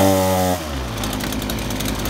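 A Titan petrol chainsaw starts with a brief steady tone, then settles into a rough, rattling engine run while being revved to warm up, loud and close with no voices.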